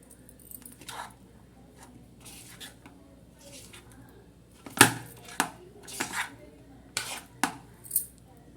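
Scattered clinks and scrapes of a utensil against a bowl while mixing a chopped egg filling for Maldivian snacks, with several sharper knocks toward the end; no talking.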